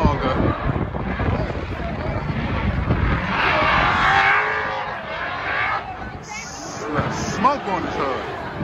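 Drift cars at a Formula Drift event produce a loud, rising engine roar and tire skid that swells and fades, heard from trackside with wind buffeting and people talking nearby.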